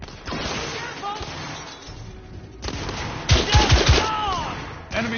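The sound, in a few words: gunfire in the video game The Order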